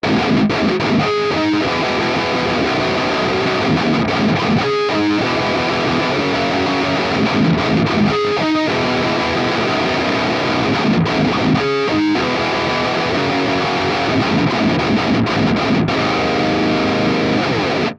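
A heavily distorted, boosted high-gain electric guitar through a Fractal amp model plays loud sustained chords and riffs with brief stops, thick and saturated throughout.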